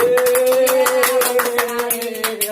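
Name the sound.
students applauding for Lukman in class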